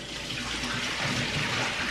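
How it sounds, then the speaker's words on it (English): Tap water runs steadily over crab legs being rinsed for a seafood boil, making a loud, continuous splashing rush in a sink. "I'm about to wash off my crab legs."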